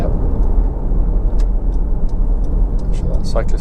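A Honda CR-V 2.0 i-VTEC EX automatic 4WD, heard from inside while it drives and turns left, gives a steady loud engine and road rumble with no break, plus a few faint clicks near the end.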